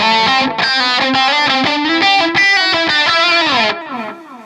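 A run of sustained lead notes on an electric guitar, played through an RP1000 with boosted mids, added gain, reverb and delay, sounds bright and slightly distorted before the last note rings out and fades.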